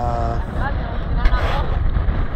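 Strong wind roars over a microphone on a small boat at sea during a spearfishing outing, giving a steady, loud buffeting rumble with a voice talking over it.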